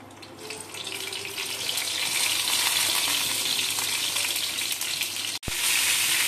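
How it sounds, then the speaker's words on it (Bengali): Loud, continuous hissing sizzle of pointed gourds frying in hot oil, close up and building in intensity, with a brief break near the end. "এবার ভেজে ফেলবো।"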